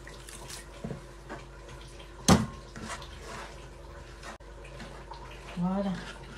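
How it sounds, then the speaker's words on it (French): Water is poured into a pot of Tunisian couscous with chard and osban, a close, splashing stream that swells and settles over a few seconds amid kitchen background noise. "Et là encore, on va mettre de l'eau."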